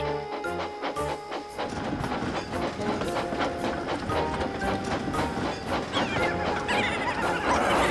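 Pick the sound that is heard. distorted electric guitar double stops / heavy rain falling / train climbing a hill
train climbing a hill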